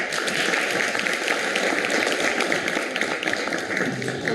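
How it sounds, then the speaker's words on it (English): Audience applause welcoming a speaker to the stage, a steady, fairly loud wash of clapping from a crowd with no break. "So please welcome sir with a big round of applause."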